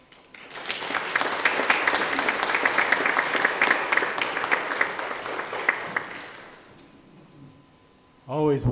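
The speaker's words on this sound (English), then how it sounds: "then we're going to clap for you" A church congregation applauds young people being celebrated, a dense sustained burst of clapping lasting about six seconds before fading into room quiet, followed by a brief voice at the end.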